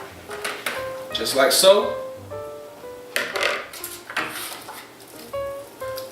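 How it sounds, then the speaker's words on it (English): Roasted potatoes seasoned with rosemary clatter and clink as they are placed into a metal crisper pan, with someone talking over the light scraping and tapping. "we're gonna put this in our crisper pan"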